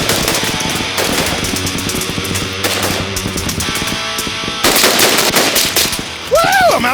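Rapid, loud bursts of gunfire from an MK18 rifle, repeated shots in several volleys with brief pauses, and a voice shouting near the end.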